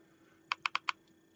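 Four quick, crisp button clicks on an iPV Xyanide vape mod, close and fairly quiet, pressed in rapid succession with nothing else around them.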